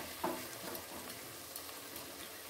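Cabbage with peanuts and poppy seeds fries in a wok, giving a soft, steady sizzle and crackle with a brief stirring scrape near the start, quiet and close.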